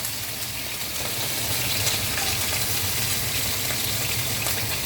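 Bone-in, skin-on chicken thighs and pork brown in a pan for an adobo, giving a steady, dense sizzle and crackle that stays close and even throughout, with no talking.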